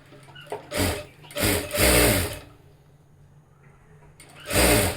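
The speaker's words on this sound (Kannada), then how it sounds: "ಈ ಥರ ಇಟ್ಕೊಂಡು ಈಗ ಸ್ಟಿಚ್ ಮಾಡ್ಕೊಳ್ಳೋಣ" A sewing machine stitches layered blouse fabric and lining strips in several short, loud whirring bursts separated by brief pauses, close by.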